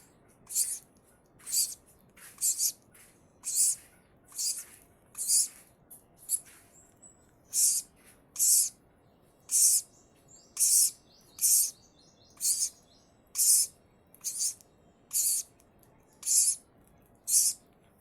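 Lovebirds chirping in a steady series of short, bright, high-pitched calls, roughly one per second, fairly close and clear over a quiet background with no talking.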